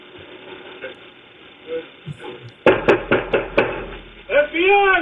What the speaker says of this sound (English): listen to how they knock on the door.